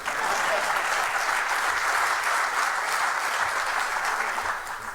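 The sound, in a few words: audience applause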